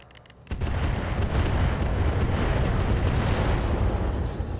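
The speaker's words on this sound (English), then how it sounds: "Gauss rifle explosion there." A Gauss rifle explosion in the mech combat game RogueTech: a sudden heavy boom that breaks from near-quiet into a sustained loud, rumbling roar lasting several seconds.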